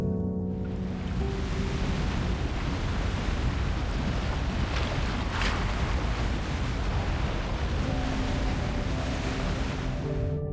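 Ocean waves in the video game Love and Deepspace wash and roar as a steady, broad rush of surf, strong and continuous for several seconds, with no speech over it.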